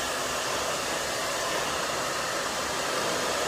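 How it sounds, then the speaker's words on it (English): A handheld blow dryer runs continuously at close range, a steady, even whoosh of blowing air with no change in pitch or volume throughout and no voices. "Now, I'm going to take this blow dryer,"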